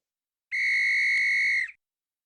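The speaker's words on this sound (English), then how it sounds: "you just heard the whistle blow" A single loud, shrill whistle blast lasting about a second, clear and alone against silence.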